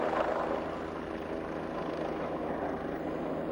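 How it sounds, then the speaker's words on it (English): Helicopter flying over the mountain tops of the Bernese Oberland, a steady droning rotor and engine hum heard alone at moderate distance with no voices. "you can take a helicopter ride around the mountain tops and view the Bernese Oberland from the air"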